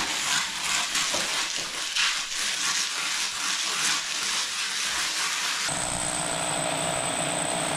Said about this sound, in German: So, wenn Gideon die gleich fertig gebohrt hat